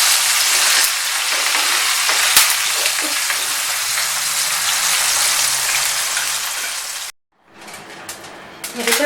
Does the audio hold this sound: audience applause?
no